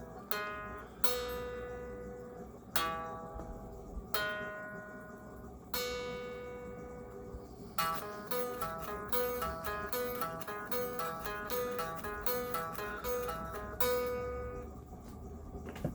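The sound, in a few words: guitar notes played on the 3rd (G) string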